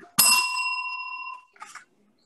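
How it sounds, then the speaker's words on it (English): A single bright bell ding marks remaining speaking time at a board of directors meeting, ringing clearly and decaying over about a second, followed by a short faint rattle; no talking. "You will hear a bell."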